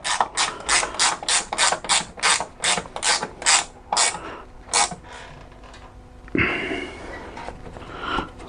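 Ratchet wrench clicking rapidly in a steady run of about a dozen bursts while tightening a bolt on the front shock absorber of a BMW 1 Series, close and loud, then a brief pause and a louder metallic scrape.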